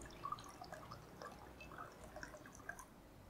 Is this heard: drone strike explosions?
no